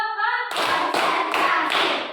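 A classroom of students clapping together in unison, a few strong synchronized claps in steady rhythm following a short spoken lead-in, loud and close.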